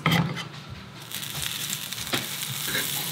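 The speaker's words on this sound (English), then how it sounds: "We're just going to cast iron skillet these fillets" Salmon fillets from a Michigan king salmon frying in a cast iron skillet, a close, steady sizzle with crackles and a few brief scraping touches, no voices.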